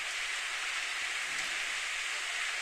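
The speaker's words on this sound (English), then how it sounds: "Apparently we can hear the sound of falling rain." Falling rain in the game Steins;Gate, a steady, even hiss of rainfall, soft and continuous throughout the short stretch with no talking.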